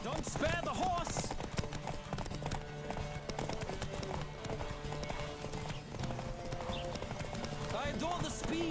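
Hooves pound in a fast, even gallop as a horse races in The Witcher 3, continuous and close, with brief whinnies and a voice talking over the rhythm.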